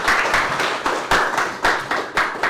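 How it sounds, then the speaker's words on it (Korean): Audience clapping at a lecture in a hall, a bursty wash of hand claps rising and falling in waves with no voices over it. "큰 박수 부탁드립니다."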